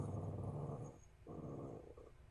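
Low, rumbling dog growl running steadily for about a second, pausing briefly, then resuming in a second long stretch before trailing off, close and fairly quiet with no talk over it.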